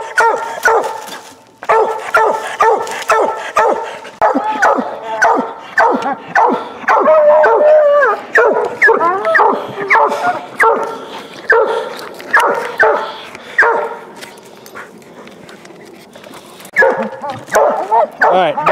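Several hunting dogs bark and bay repeatedly at an animal treed in a den tree about 600 yards off, loud and overlapping in steady bursts, with a human voice briefly among them.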